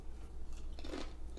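Crunchy Indonesian snack, tasting like a corn chip mixed with Captain Crunch cereal, being chewed close up, with a few sharp crunches in quick succession and no talk.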